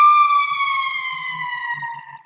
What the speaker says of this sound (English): Another siren again. I swear sirens are always going by when I'm making a video.